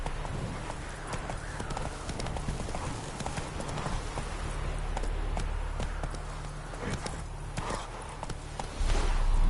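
Horse Roach gallops steadily in The Witcher 3, a continuous clip-clop of hooves over a low rumbling game soundscape, loud and close throughout with no speech.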